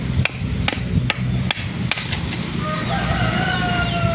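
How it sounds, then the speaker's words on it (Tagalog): Several sharp, evenly spaced knocks open the clip over a busy outdoor background, followed by a faint, thin chicken call near the end. "Ingay nung manok."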